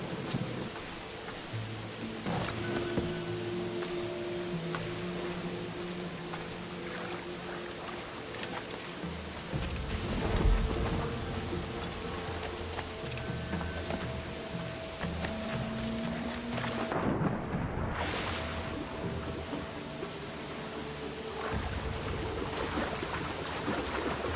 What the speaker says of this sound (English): even the rain is gorgeous in this game